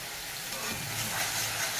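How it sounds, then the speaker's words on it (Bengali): Spice paste for a crab and prawn curry being fried down in oil, a steady close hiss with a low rumbling undertone and no voices. "মশলাটা ভালো করে কষিয়ে দিচ্ছি।"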